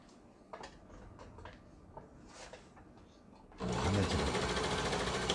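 An old Lion My-style 30 sewing machine, tested after repair, stitches fabric in one loud continuous run that starts suddenly partway through. It follows quiet handling clicks and is heard without talking.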